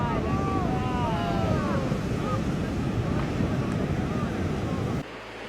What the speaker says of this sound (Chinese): 在一波又一波汹涌的巨浪冲击下